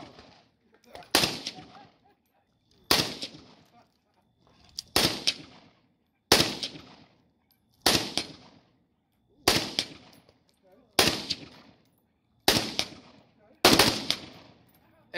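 Bursts of AK rifle fire at an outdoor shooting range, about nine separate short volleys spaced roughly every one and a half seconds, each a loud sharp crack trailing into echo, with no talking.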